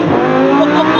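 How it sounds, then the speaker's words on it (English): Lamborghini Huracan engine held at a loud, steady, close roar through a first and second gear change, with a dense harmonic growl and a voice speaking faintly underneath. "We do a first and second gear change."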